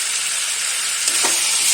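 Chicken frying with onion and a pinch of turmeric in a pan, a loud continuous sizzle with a brief scrape of stirring near the end, no voices.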